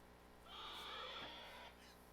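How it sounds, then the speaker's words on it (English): A pig call from a hunting video game rings out once, a faint, drawn-out squealing grunt lasting about a second over a quiet background hum. "Am I right in saying that was a pig?"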